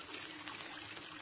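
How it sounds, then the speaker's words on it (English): Water gushes steadily from an opened faucet as a sound effect in an old-time radio comedy about a plumbing mishap, a continuous hissing flow with a narrow, dated broadcast tone. "Now, I'll just open this faucet and..."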